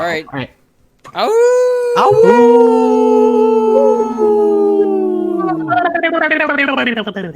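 Several people howl together like wolves, long sustained rising and falling voiced howls layered close and loud, imitating a pack, after a brief spoken exchange.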